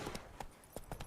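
Horse hooves clip-clopping in The Witcher 3 video game, a few distinct close hoofbeats spaced irregularly over a brief moment, with no voices.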